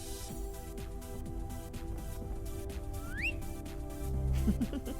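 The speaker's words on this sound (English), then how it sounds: "I'm jealous of Rosa. She can whistle." Rosa whistles in the point-and-click game The Blackwell Epiphany: a short rising whistle glides upward around the three-second mark, heard over a busy, layered game soundscape with steady background music.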